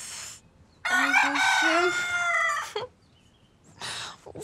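A rooster crows loudly and close, one long drawn-out call with a rising, wavering tone, followed by a shorter crow burst; a brief voice is heard at the start.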